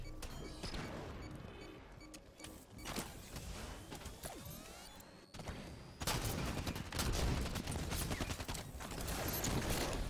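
Halo 5: Guardians one-on-one match with gunfire crackling in quick bursts, sharp impacts and a heavy grenade blast, loud and near, continuing densely through the whole stretch.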